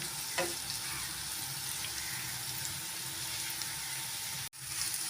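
Onions sautéing in a pan for a chicken gravy, giving a steady, even sizzle with occasional soft stirring scrapes, close and continuous, cutting out abruptly near the end before resuming.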